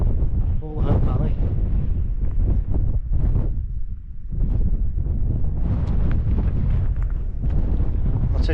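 Strong gusts of wind buffet the microphone on an exposed hillside walk near Stanage Edge in the Peak District, rumbling in heavy bursts while someone talks over it.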